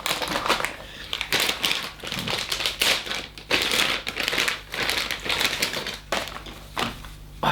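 Crinkly plastic foil being pulled off and unwrapped from an airsoft Umarex/GHK Glock 17 Gen3 gas blowback pistol, in repeated close bursts of crackling with short pauses between them.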